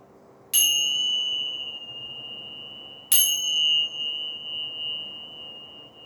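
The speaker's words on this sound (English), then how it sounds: "let your mind, your body, and your soul absorb the vibrations of the bells" Bells struck during a yoga relaxation, two clear metallic strikes about two and a half seconds apart, each ringing out in a long, pure sustained tone that slowly fades, close and alone in a quiet room.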